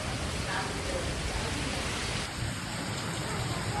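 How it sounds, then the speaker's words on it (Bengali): Heavy rain pours down with strong wind, a dense, unbroken roar of falling water that stays steady and fairly quiet throughout. "এই যে দেখো কিভাবে বৃষ্টি পড়ছে মুষলধারে, আর হাওয়া দিচ্ছে জোরে"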